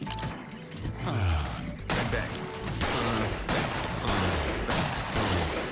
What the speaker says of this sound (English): Draw your weapon and fire at will, Felix.